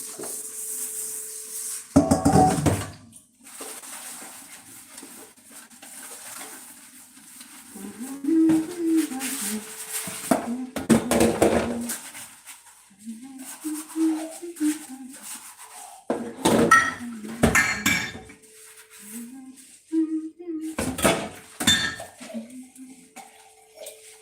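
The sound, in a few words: washing a bowl for pancakes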